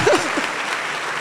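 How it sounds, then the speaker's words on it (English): Large audience in the KNUST Great Hall applauding loudly, a dense continuous roar of clapping with a brief voice audible at the start. "I'd like you to clap for yourselves once again"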